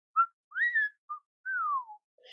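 A lone storyteller whistles a few short rising and falling notes, imitating a whistle in an Irish folk tale, clear and close with gaps of silence between calls.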